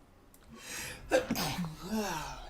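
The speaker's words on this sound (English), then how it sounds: "I'm gonna sneeze" A single sneeze bursts out after a quick inhaling gasp, close and sharp, with a short breathy tail.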